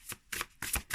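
A deck of oversized cards shuffled by hand, three quick riffling bursts in a regular rhythm, close and fairly loud.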